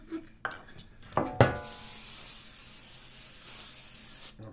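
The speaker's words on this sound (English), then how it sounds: "I'll spray the pan." A few light clanks of cookware, then a steady aerosol hiss of cooking spray onto a baking pan for about three seconds, close up.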